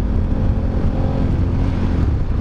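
KTM 1190 Adventure motorcycle, remapped and ridden in Sport mode with ABS off, engine running at a steady loud roar under wind noise, close to the rider throughout.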